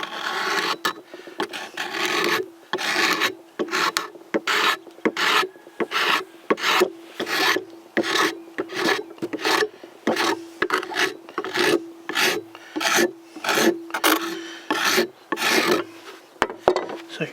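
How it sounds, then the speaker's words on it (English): Varnish is scraped off a wooden hatchet handle in quick repeated rasping strokes, close and loud, with a steady rhythmic scrape-and-pause pattern lasting throughout. "you can see I've scraped a few rows here of the varnish off"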